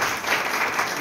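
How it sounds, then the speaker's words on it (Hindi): Brief burst of hearty applause from teachers at a foundational literacy and numeracy training session, a dense wash of clapping heard for about a second without any voices. "एक बार जोरदार तालियां।"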